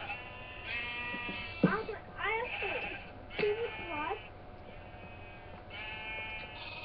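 Several video-game sheep bleats sound in short bursts over a low hum, with a voice speaking between the calls.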